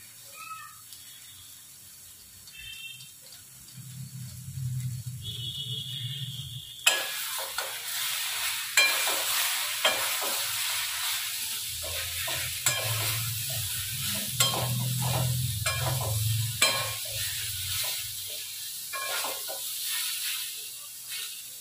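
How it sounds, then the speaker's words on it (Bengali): Potatoes and bori being stirred and fried in spice masala in a home kitchen, a steady scraping and stirring with a soft sizzle underneath, close and fairly quiet, growing busier after the first few seconds with no talking. "এবার আলুর মধ্যে আর বড়ির মধ্যে মশলাটা ভালো করে একটু ঢুকে যাবে, নেড়ে চেড়ে নেবো"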